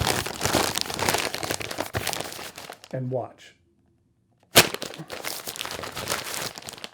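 Loud crinkling of a plastic bag being folded and wrapped up close, pausing briefly while someone speaks, then resuming.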